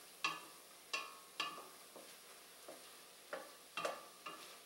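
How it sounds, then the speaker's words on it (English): Mushroom risotto cooking in a hot pan with red wine, soft steady sizzle under a series of spaced scraping stirs, about eight strokes at an unhurried pace, close and quiet. "you can hear it's kind of sizzling, you know? Not like a bacon sizzle"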